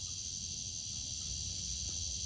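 Locusts buzz outdoors on a summer day in the countryside, making a steady high-pitched drone that holds constant over a low background rumble.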